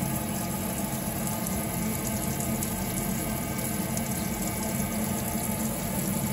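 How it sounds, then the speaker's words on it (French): A cold water tap runs in a steady, even rush of water, continuous and moderately loud, with a low mechanical hum beneath and no speech. "Maintenant je vais ouvrir un robinet de froide"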